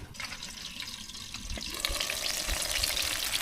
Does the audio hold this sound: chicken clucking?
no